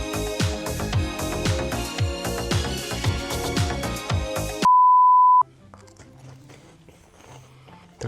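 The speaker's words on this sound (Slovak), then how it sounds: "Teraz ho pekne vypípaj, editor." A steady censor bleep tone cuts in abruptly after loud music and lasts under a second, followed by quieter background sounds.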